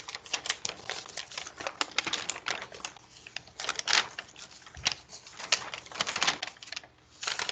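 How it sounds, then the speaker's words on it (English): A paper road map of Kentucky is unfolded close up, with dense crackling and rustling of stiff paper in bursts over several seconds, loudest around the middle and again near the end, no talking. "Let's fold our map open."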